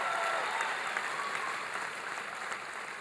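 Audience applause fills a town hall health care event in Green Bay, a steady dense wash of many hands clapping at moderate distance, continuous and fading only slightly over a few seconds.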